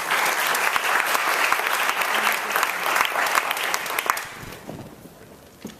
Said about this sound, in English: I think everyone should give themselves a round of applause.